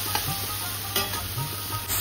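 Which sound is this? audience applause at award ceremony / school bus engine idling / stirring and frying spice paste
stirring and frying spice paste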